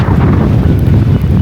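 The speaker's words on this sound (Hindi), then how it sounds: "और अभी भी इतनी हवा चल रही है" Strong, cold Arctic wind in Svalbard buffets the microphone with a loud, continuous low roar, steady and close, with no voices.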